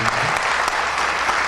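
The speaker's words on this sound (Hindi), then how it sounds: "आप उनका जोरदार तालियां बजाकर उन्हें सम्मान दें।" Dense, loud applause from an audience at a poetry event, a continuous wash of clapping with no gaps across the short stretch.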